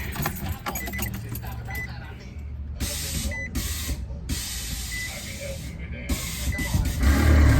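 An Infiniti G35 on air suspension releases air in a loud, sustained hiss that comes in several bursts separated by short pauses as the car lowers, over a low background rumble.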